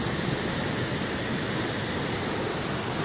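Cachoeira do Fundão, a huge waterfall swollen and dark after heavy rain, roars as a constant, dense rush of falling water with no pauses or voices.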